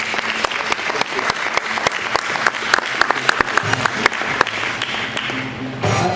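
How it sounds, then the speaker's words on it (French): An audience at a talk about a wine and hospitality business breaks into sustained applause, many hands clapping at close range with sharp individual claps standing out, the clapping thinning slightly near the end. "On applaudit Franck Haro, s'il vous plaît."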